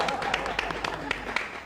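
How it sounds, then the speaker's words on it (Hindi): Steady audience applause, rhythmic separate hand claps in a room, a moderate and fairly close patter with no talk over it. "तालियां तालियां"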